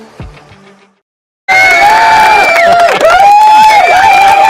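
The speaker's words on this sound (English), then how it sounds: "What you can't see is there's like 30 people behind us here at KOMO just cheering." About thirty people cheer and whoop loudly in a sports broadcast studio near an arena, a sudden sustained roar of shouting voices after a brief quiet moment.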